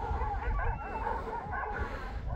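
A pack of Kangal dogs barking and yipping outdoors, a busy overlapping chorus of dog voices running through the whole short moment against a rough, rumbling background.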